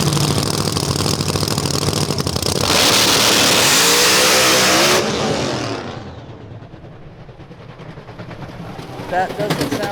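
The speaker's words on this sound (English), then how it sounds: "Car making a lot of noise as it is coming to a stop out there." Outlaw drag race car at Famoso Dragstrip, running badly and shut off just past the 60-foot mark: a loud rough engine roar that dies down as the car coasts to a stop, with crowd or announcer voices beneath.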